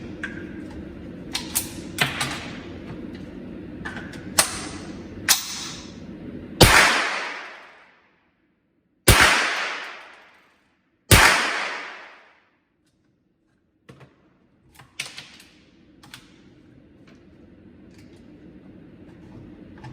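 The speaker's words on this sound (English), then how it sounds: "Now we're going to fire a test group downrange." A rifle fitted with a Vortex Spitfire HD Gen II 5x prism scope fires a three-round test group downrange: three loud sharp shots spaced a few seconds apart, each with a ringing decay, amid mechanical clicks and outdoor background noise.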